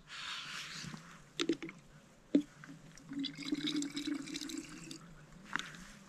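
Freezing water filling 850 ml water bottles at a winter wild camp on Helvellyn, a continuous trickling pour with gurgles, splashes and a few sharp knocks, heard close up.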